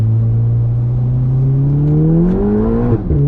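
A 612 bhp Volkswagen Golf R pulls hard in second gear, its loud engine note rising steadily in pitch for about three seconds before a brief abrupt break at the end.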